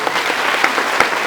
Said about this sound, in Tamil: ஒரு கிளாப் பண்ணலாமா?